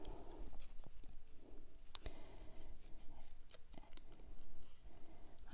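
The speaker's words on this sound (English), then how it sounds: "I'm using our micro tip scissors, which are amazing" Micro tip scissors cutting out small paper shapes for card making, giving soft close snips and crisp paper rustles at an uneven pace, faint and intimate.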